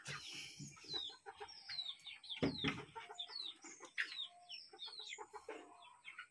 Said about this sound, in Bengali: আমি প্রতিদিনকার মতো আজকেও চলে আসলাম আমার মুরগিকে খাবার দেওয়ার জন্য